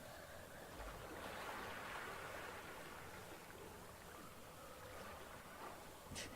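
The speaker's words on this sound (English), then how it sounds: "The sound of the waves." Waves washing through water in a tabletop role-playing game session, a steady broadband wash of surf that swells and eases over several seconds with no voices.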